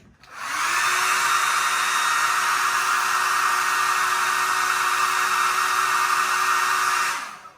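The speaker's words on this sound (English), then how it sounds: "the ping pong ball over the hairdryer experiment" A hair dryer switches on, blows with a steady whirring roar for about six seconds, then shuts off.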